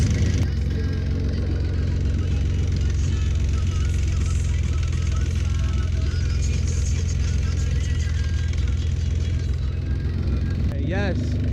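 The engine of an idling 2004–2006 Nissan Maxima is held at a steady raised speed during a radiator swap, producing a constant, loud, close drone that barely changes pitch.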